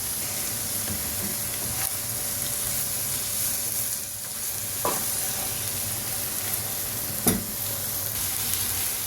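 Eggs frying in a pan with spiced kocho mixture, a continuous soft sizzle with occasional stirring scrapes and a couple of sharp clicks, without any voices.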